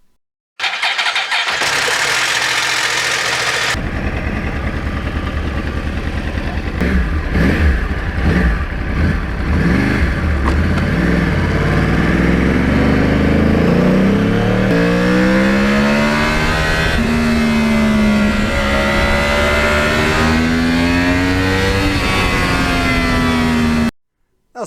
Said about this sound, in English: it is time to get out on the open road on the R1